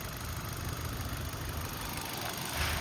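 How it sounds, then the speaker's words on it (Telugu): A 2016 Hyundai Grand i10 Sportz 1.2-litre petrol engine idles steadily at low volume, a continuous even hum with a faint mechanical rattle. "ఇంజన్ సౌండ్ కూడా చెక్ చేసుకోవచ్చండి"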